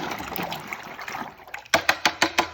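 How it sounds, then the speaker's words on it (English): Water splashing as a paint brush is rinsed, a soft wet swishing that ends in a quick series of five or six sharp, close tapping splashes. "And then you rinse it."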